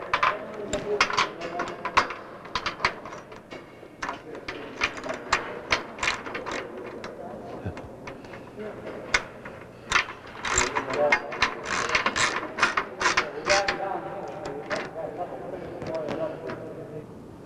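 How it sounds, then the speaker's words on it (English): Socket wrench ratcheting on clamp nuts of a metal tree frame, bursts of rapid clicking close by, interrupted by short pauses and clanks, with a voice speaking in between. "Use a socket wrench."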